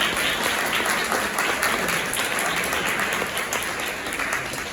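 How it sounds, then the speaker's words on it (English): An audience at a community diversity forum breaks into dense, sustained applause, many hands clapping together steadily and loudly for several seconds, tapering only slightly toward the end. "Big round of applause."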